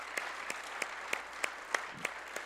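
A congregation at a church conference claps in slow unison, about eight evenly spaced beats, fairly faint over a quiet room.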